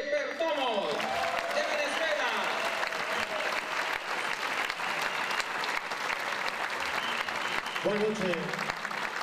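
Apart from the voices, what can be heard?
audience applause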